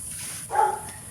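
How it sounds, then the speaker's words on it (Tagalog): A single short dog bark rings out on a farm, fairly close and clear over quiet outdoor background noise. "Ayaw tumigil ng aso, nakikisama."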